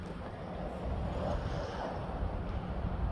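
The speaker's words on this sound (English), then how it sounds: "Whew, that wind is cold." Cold wind blows outdoors on a wet, grassy walk, a continuous roaring rush buffeting the microphone with no break.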